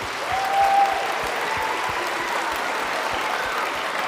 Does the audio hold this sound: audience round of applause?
yes